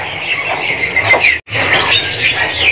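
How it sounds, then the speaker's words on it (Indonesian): A caged female cinoy bird in a bird shop gives continuous high, squeaky chirps and squeals at close range, with a brief drop to near silence midway before the calling resumes. "Ini ada juga burung cinoy, betina mas"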